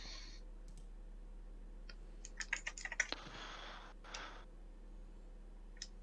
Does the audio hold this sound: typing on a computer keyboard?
yes